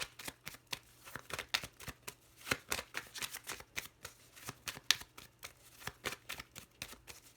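Tarot cards being shuffled by hand, a quiet, steady run of soft riffling flutters and slaps repeating throughout, close and alone without talk.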